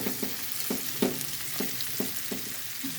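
Onion frying in a pan gives a soft steady sizzle, broken by regular stirring scrapes and clicks about twice a second; fairly faint, no voices.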